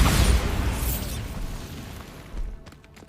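A Bombarda explosion spell fired in Hogwarts Legacy bursts loudly up front, then fades into a rolling rumble, with a few faint crackles trailing near the end.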